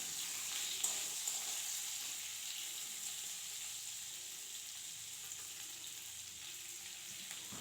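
A steady, faint sizzle of onions and green chilies frying in hot oil, continuous hiss with no talking.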